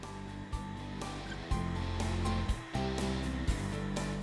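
A router cuts a deep beveled edge around the tops of wooden legs for a Mission-style ottoman. Its loud, steady motor whine dips and surges roughly every second as the bit bites into the wood. No voices.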